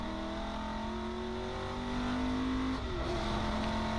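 A race car's engine pulls hard through the gears out of a hairpin at the Magny-Cours circuit, a loud, steady onboard drone whose pitch climbs and then shifts at an upshift.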